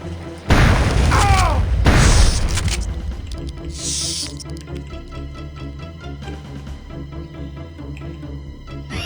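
Grenade blasts in Turok 2: Seeds of Evil, a loud booming explosion near the start followed by a second burst, then fading rumble with lighter game effects trailing off.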